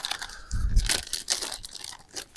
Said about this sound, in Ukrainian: Комусь вже трішки подер пакетик.